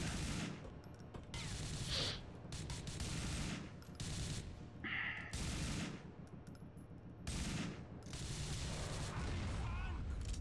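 Rapid bursts of gunfire in GTA IV with a Back to the Future mod, loud repeated volleys in clustered blasts across the clip, with voices talking over and between the shots.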